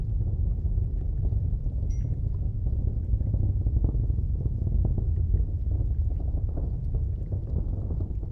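A SpaceX Falcon 9 rocket in flight through max Q, heard as a steady, dense low rumble and crackling roar that holds constant throughout, with no other sounds.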